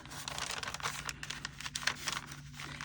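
Paper bag being folded for a junk journal, giving steady close crinkling and rustling with soft crackles throughout, no voices.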